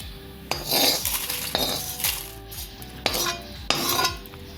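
A metal spoon scrapes and knocks inside a kadhai as roasted spices for a homemade masala, made without onion or garlic, are scooped out. It gives several close scraping strokes about a second apart, with no talking.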